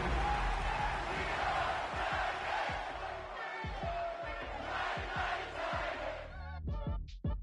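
Roaring stadium crowd cheers loudly and steadily in an EA Sports football video game between the Jaguars and the Titans, with a dense wash of voices and whoops that suddenly thins near the end.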